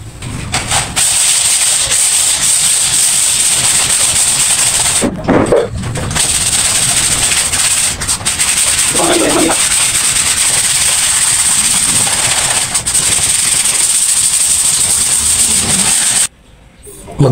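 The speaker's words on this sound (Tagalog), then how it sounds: "number 80 po yung liha na ginamit ko" Old varnish being sanded off wood with number 80 sandpaper during a home DIY refinishing job: a continuous close rasping hiss with a few brief pauses, steady and fairly loud throughout.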